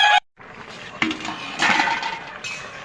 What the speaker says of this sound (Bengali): এবার এই বেগুন কেটে রেখেছি, এটা দিয়ে দেবো। নাড়িয়ে দেবো